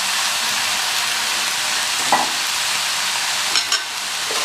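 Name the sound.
drumstick leaves being sautéed and stirred in oil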